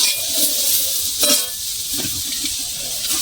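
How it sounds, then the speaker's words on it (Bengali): Water lily stems frying in a pan with salt and turmeric, a soft continuous sizzle broken by a clatter of the spatula stirring and a few lighter scrapes. "ভালো করে ভেজে নেব।"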